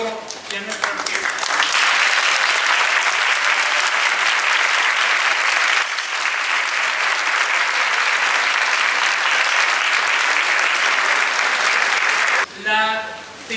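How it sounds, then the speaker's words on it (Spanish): Sustained audience applause welcoming the choir and orchestra at a Christmas concert, loud and dense for about twelve seconds, then a voice begins speaking near the end. "quiero que todos le demos un fuerte aplauso y la bienvenida a nuestro coro y a nuestra orquesta"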